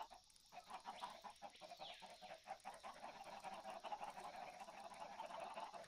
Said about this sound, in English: the clucking is insane